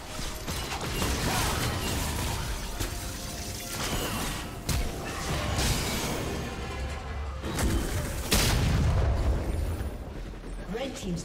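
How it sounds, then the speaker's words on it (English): A League of Legends turret crumbles during a mid-lane Talon versus Viktor match, a loud continuous crash of grinding, creaking mechanisms and blasts over dense game effects and voices. "Team's turret has been destroyed."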